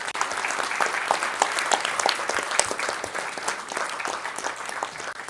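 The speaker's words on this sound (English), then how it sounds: "Let us have a round of applause for Raghav Chakravarti." A lawyers' quiz finale audience applauds as the quiz master is welcomed, with loud, close, dense clapping and sharp individual claps standing out, sustained through the whole stretch without speech.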